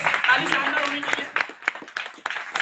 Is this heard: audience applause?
yes